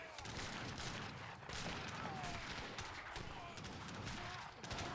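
Field guns fire repeatedly in an Age of Empires 3 battle, with dense overlapping booms and gunfire under a busy, continuous battle din.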